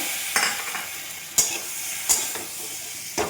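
Green banana frying with green chili, green chili powder and tomato in a pan, a steady broad sizzle with a few sharp scraping stirs spaced through it, close and alone.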